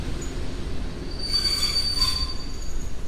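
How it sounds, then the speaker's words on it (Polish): A train pulls into Warszawa Centralna station with a rumbling low roar while its wheels let out a high, piercing squeal that rises and fades. "Pociąg przyjechał punktualnie"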